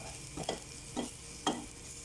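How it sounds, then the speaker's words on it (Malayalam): Pepper powder sautéed in a pan for chicken kuruma, three soft scraping strokes of a spoon spaced about half a second apart over a faint, quiet sizzle, with no talk. "ഒരു സ്പൂണ് കുരുമുളക് പൊടി കുരുമുളകും ഇട്ട് നല്ല വാട്ടുക"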